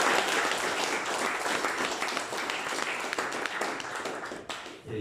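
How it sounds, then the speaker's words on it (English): An audience at a Rust London meetup talk breaks into sustained applause, a dense wash of clapping that fades out near the end. "Maybe a round of applause."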